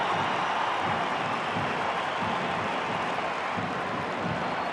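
A football stadium crowd at Portugal vs Denmark roars steadily as Ronaldo whips them up, a dense, continuous wash of noise from a vast distant mass with no clear voices.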